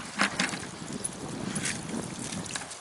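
Water swishes and sloshes in a gold pan being rinsed out while sluicing in Southern Oregon, a steady close wet wash with a few splashy bursts and no talk.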